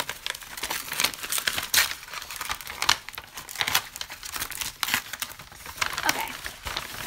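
A mailed package covered in stickers is torn open by hand, with steady paper crinkling, rustling and tearing running throughout at close range.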